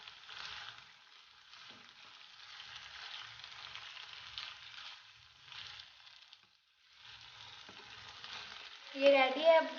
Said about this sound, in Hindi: ये वेजिटेबल को चिकन के साथ 5 मिनट तक पका लें।